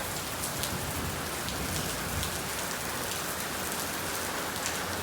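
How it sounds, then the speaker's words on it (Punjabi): Heavy rain pours steadily, a dense, constant hiss of drops hitting surfaces close by, with no voices. "ਇੰਨਾ ਜ਼ੋਰ ਨਾਲ ਮੀਂਹ ਪੈ ਰਿਹਾ ਨਾ ਮੀਂਹ ਨੇ ਨਾ ਪੂਰੀ ਐ ਰਫਤਾਰ ਫੜ ਲਈ ਐ"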